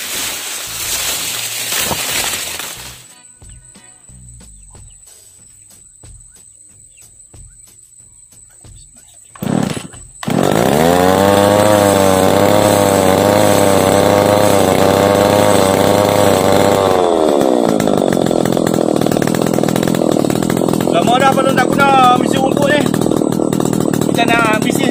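Chainsaw pruning trees in a garden orchard. After quiet rustling and a short pull, the engine roars up loud and close and holds a steady whine, then bogs lower as it cuts through wood.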